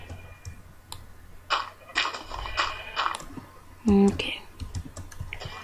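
Quick clusters of computer keyboard key presses from shift-clicking, crisp and close, with a few isolated taps and a brief spoken word between them.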